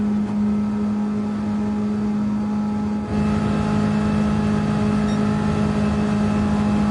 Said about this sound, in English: you get the more of the sound of the engine and the exterior sound, the wind.